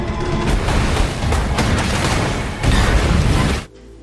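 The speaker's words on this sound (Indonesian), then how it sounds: "Baku tembak terjadi di antara mereka dan Greyhound terkena ledakan." Loud, dense bursts of gunfire and booming blasts from a film's Atlantic naval battle, with a destroyer hit by an explosion, roll continuously, then cut off abruptly into near silence at the end.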